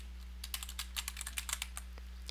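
Quick, irregular keystrokes on a computer keyboard as a word is typed into a game addon's settings list, close and clear over a steady electrical hum.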